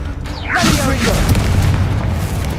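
A Confringo fire spell blast from Hogwarts Legacy rumbles as a low, sustained boom with a whooshing sweep at the onset, set within busy battle noise and game voices.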